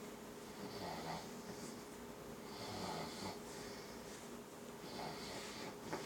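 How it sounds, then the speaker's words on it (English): A sleeping woman snores softly and steadily, her raspy, snorting breaths repeating about every two seconds against quiet room noise. "Yeah, she's snoring."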